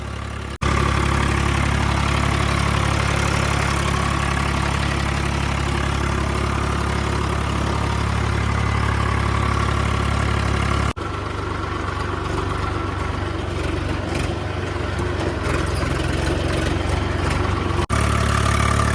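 A loud old Swaraj 855 tractor engine idles steadily with a deep, chugging rumble and vibration, holding a constant pace with a brief shift partway through.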